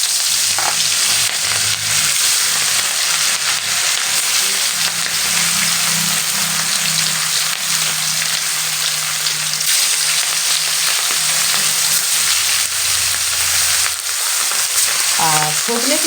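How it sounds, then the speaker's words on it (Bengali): Rohu fish pieces fry in very hot oil, giving a loud, continuous crackling sizzle close by that keeps up for the full length, with a few light spatters and stirring touches. "এবারে মাছগুলো আমি ভেজে নেব।"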